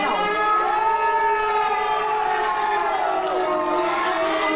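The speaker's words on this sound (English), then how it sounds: "That siren means" A wailing siren signals that weapons are now allowed in a Chaos City wrestling match, rising and falling in pitch and sounding continuously for several seconds over a cheering, shouting crowd in the arena.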